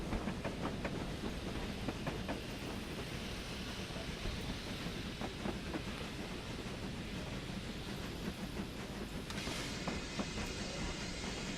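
K1 locomotive braking into a station in a train simulator game, a steady rumbling rail roar with rhythmic clicking and a hiss of brakes rising near the end, loud and continuous.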